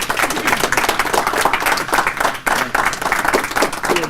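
Audience at a Rotary club business meeting clapping for a former Rotarian, steady dense applause from many hands at close range lasting several seconds with no talk over it.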